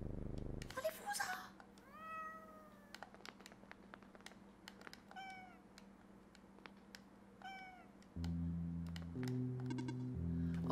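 Cats in the video game OneShot let out several short, rising meows spaced across the clip, fairly quiet, amid light tapping and a low game tone that swells near the end.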